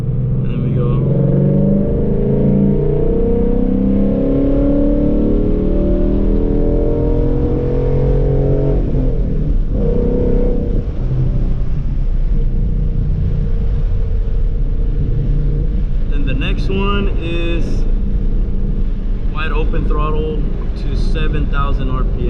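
A car being tuned accelerates hard in second gear, its engine droning and rising steadily, loud and close, with a sharper rev near the end.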